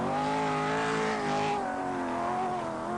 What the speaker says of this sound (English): This car has been specially built for the Paris to Peking long-distance rally.